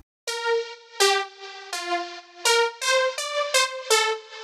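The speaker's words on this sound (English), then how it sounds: "I used this fake trumpet layer I made in the serum." A trumpet-like tone synthesized in Serum plays a short melody of about eight punchy notes, each with a brassy swell, loud and alone.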